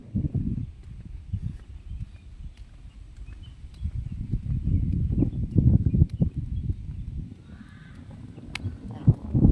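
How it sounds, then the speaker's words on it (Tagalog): Distant birds call now and then over a steady, shuffling rustle and clatter of movement nearby. "huni ng mga ibon"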